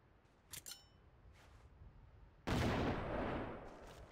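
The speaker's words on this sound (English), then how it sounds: "Maybe I'll toss grenades in there after all." Grenades go off in the video game Delta Force Xtreme 2: a loud, broad burst of blast noise that lingers and slowly fades, preceded by a few faint sharp clicks.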